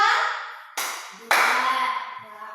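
Two sharp, loud bursts of clapping from a class of children answering a teacher's count, each ringing briefly into the room, with a faint voice near the end.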